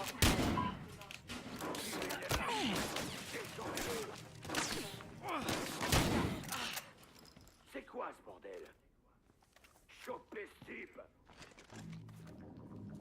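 Rapid bursts of gunfire crackle through the Battlefield Hardline game soundscape, with dense shots early that thin out, and voices talking over parts of it.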